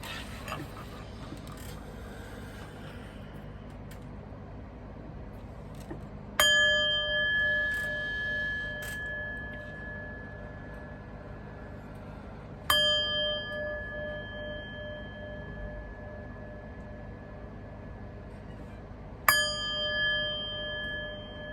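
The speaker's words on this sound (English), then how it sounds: "But first, let's chime." A chime bell rings three times, each strike bright and sustained with a long, slowly fading ring, spaced about six seconds apart over faint background noise.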